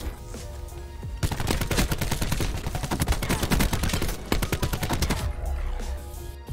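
Rapid automatic fire from a Madoc gun in the video game Black Ops 4 rattles in a dense, fast burst lasting several seconds, loud and close, with brief quieter moments before and after.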